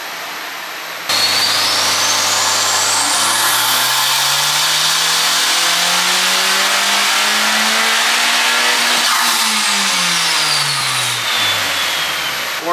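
A big-turbo Honda Civic Type R FK8 engine on a dyno pull, loud and close: a steady whine and roar climbing in pitch for several seconds, then dropping as the run winds down, with turbo whistle on top.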